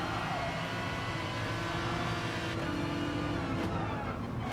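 Race car engine in the racing video game GT Sport as the driver eases off the throttle for a corner, a continuous droning engine note with a shifting pitch, loud and steady for the whole stretch.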